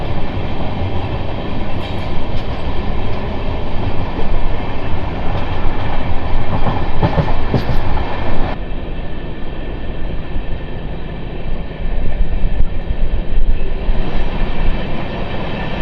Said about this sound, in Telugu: చెన్నై సెంట్రల్ వెళ్ళే లోకల్ ట్రైన్ ఇది.